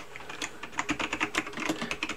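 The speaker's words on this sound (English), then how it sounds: "So you can actually hear a little bit of clicking, but you definitely know when the buttons are being pushed." A Logitech Orion Spark G910 mechanical keyboard is typed on at a steady quick pace, each keypress a distinct, close, crisp click in an uneven rhythm.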